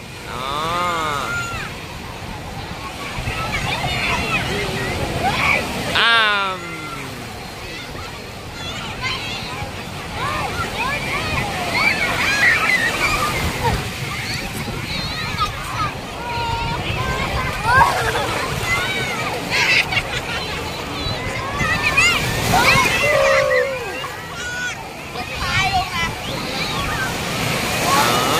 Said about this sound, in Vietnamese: hai anh em đang nhảy sóng nha mọi người